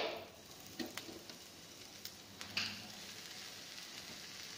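Garlic bread slices toasting in butter in a pan on a medium flame, a faint steady sizzle with a few soft scrapes and taps near the start and middle, quiet and close, no one talking.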